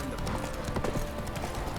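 Geralt's horse Roach galloping in The Witcher 3: a quick, steady clip-clop of hooves, close and loud for under two seconds, with a voice heard alongside.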